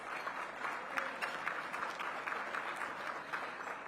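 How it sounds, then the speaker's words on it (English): Guests at a luncheon applaud grant recipients, sustained even clapping from a room of people, fairly soft and continuous with no talk over it. "Let's give them a big round of applause."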